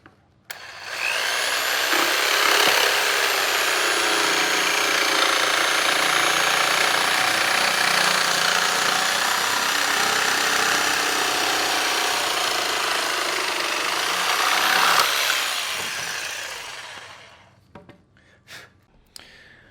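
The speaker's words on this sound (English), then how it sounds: "Easiest way to cut that is with your jigsaw." A jigsaw cuts vinyl plank flooring in an arc around a toilet flange, a loud, steady buzzing rasp held for about fifteen seconds before it stops, followed by a few light knocks.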